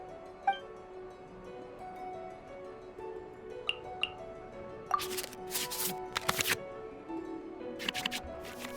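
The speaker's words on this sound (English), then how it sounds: "we can select any number of cards in our hand to shuffle back into the draw pile" Video game card-shuffling effects from the Genshin Impact card game: soft whooshing swipes and flicks in a quick cluster over a quiet musical backdrop, with a few faint chime blips beforehand.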